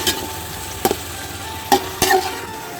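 Chopped tomatoes and green chillies cooking in a pan give a steady low sizzle, broken by a few sharp clinks and scrapes of a spoon stirring against the metal.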